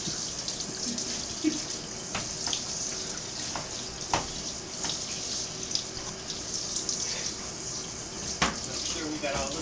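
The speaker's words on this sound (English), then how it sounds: "There's your shower." A shower runs steadily indoors, a continuous hiss of spraying water with scattered splashes and knocks, with no talk over it.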